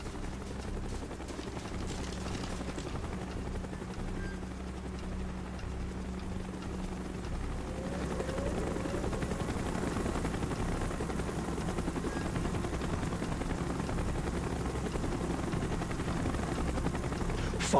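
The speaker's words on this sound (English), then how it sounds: "Chopper's inbound! Move it!" Helicopter flying in during a Call of Duty Black Ops mission, a steady low rotor drone with engine hum that holds at an even level throughout and swells a little in the second half as it draws closer.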